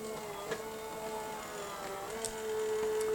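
A Big Shot Switch Plus die-cutting machine runs very quietly, a faint steady motor whine with a thin tonal hum that rises a little toward the end, punctuated by a couple of soft clicks.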